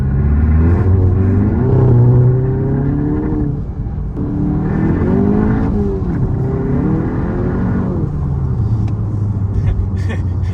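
A tuned Volkswagen MK7 GTI with a downpipe rumbles and revs hard, wheels spinning, rising in pitch as it accelerates, with voices talking over the steady roar.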